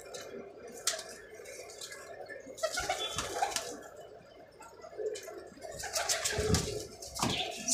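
Pigeons at a bird sale coo now and then while wings flap and feet shuffle at close range, with intermittent clatter and no one speaking.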